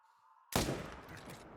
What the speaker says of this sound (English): Let's go ahead and shoot him.